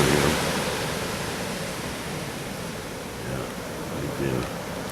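Pacific Ocean waves at Brookings, Oregon make a broad, steady wash of surf noise, with a gentle swell in loudness near the end and faint wind mixed in.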